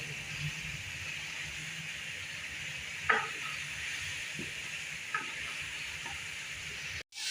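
Garlic paste frying with onions in hot ghee in a pan: a steady bright sizzle and hiss throughout, with a few light clinks and scrapes from stirring, close and moderately loud.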